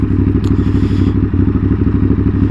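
A Ducati Monster 937 motorcycle rides along with its engine running steadily and loudly close by, a dense low rumble with a regular pulsing beat and light rattle, no voices.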